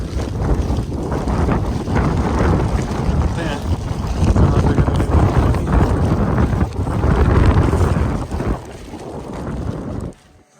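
Strong wind blasting across a mountain trail during heavy May snowfall on the Rudranath trek, loud continuous gusts buffeting the microphone in a rough roar that surges and drops before cutting off near the end.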